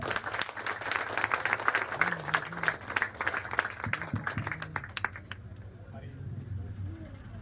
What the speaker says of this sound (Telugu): అందరు గట్టిగా ఒకసారి చప్పట్లు కొట్టండి